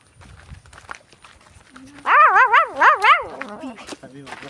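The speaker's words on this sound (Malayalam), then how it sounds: "അവിടെ ഒരു നായി." A dog in a village yard by a house sit-out gives a quick burst of several loud, close, yelping barks in a rising-and-falling run, with people talking around it.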